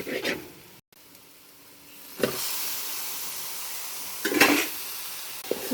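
Spice powders being stirred into chicken curry in a pan at home, with soft scraping and sizzling bursts recurring every couple of seconds over a steady low hiss.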